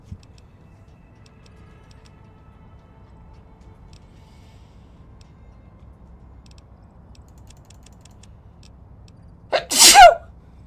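A single sharp sneeze bursts out near the end after a long stretch of near silence broken only by faint ticking, with a quick intake of breath right before it.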